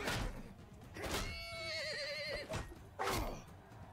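A horse in the medieval battle game Bannerlord lets out a loud, wavering neigh, framed by heavy thuds and impacts before and after.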